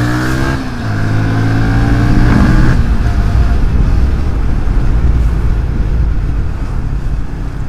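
A Kawasaki Ninja motorcycle engine on a ride in Jogja, revving up with rising pitch and then settling into a loud, steady roar with rushing wind noise, close and continuous.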